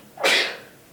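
A single sharp sneeze rings out in a quiet town council meeting room, sudden and fairly close, fading over half a second.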